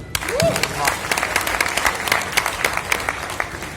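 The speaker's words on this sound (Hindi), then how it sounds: "तो एक तालियां आपके लिए बजाएंगे" An audience at a meet-up for CGL 2022 selected candidates applauds, scattered sharp claps building into rhythmic clapping after a brief vocal exclamation at the start.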